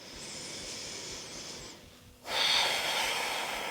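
Deep breathing during a vinyasa yoga flow: a long, airy exhale, a brief pause, then a loud, rushing breath close to the mic, with no talking.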